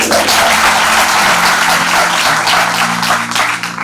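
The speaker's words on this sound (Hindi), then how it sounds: "तालियां आप लोगों की," Loud, sustained applause from a seminar audience fills the whole stretch, a dense wash of many hands clapping steadily with no break and no talk over it.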